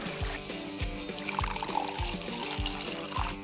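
Water is poured into a cup in a quick trickling stream, heard over rhythmic background music with regular thudding beats.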